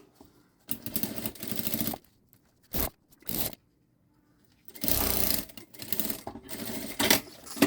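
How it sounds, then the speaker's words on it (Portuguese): A sewing machine stitches the lining of a synthetic backpack in several loud close bursts: two longer runs, short quick spurts between them, and a final stretch of stops and starts. "vou começar a costurar esse forro aqui do meio"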